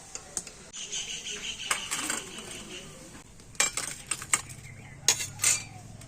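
Metal utensils scrape and clink against a pan as fried snacks are lifted out of hot oil and drained, with sporadic sharp taps and a low sizzle in the background.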